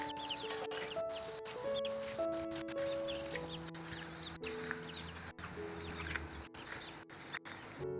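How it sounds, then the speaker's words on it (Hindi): Large roosters clucking in a rural village yard in Uttarakhand, steady clucks and calls close by over a continuous outdoor background of other birds. "ये बड़े मुर्गे हैं यहाँ पे"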